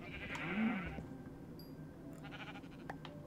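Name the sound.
cow in the video game Minecraft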